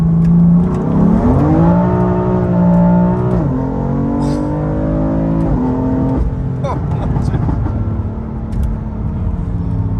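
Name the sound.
BMW M3 accelerating in second gear, Sport Plus mode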